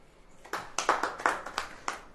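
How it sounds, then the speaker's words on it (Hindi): A small audience at a church sermon claps in a brief burst of about eight sharp, separate claps, fairly close and moderately loud. There is no talk over the clapping. "ताली बजाइए।"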